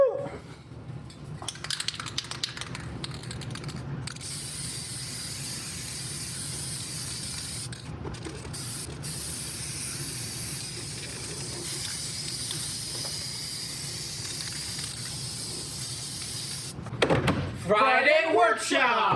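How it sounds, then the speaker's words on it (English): A spray can applies lacquer onto a wooden mail storage box, giving long steady hisses with a few short pauses and a final sputtering burst, close and fairly loud throughout. "we're gonna do some spray lacquer now"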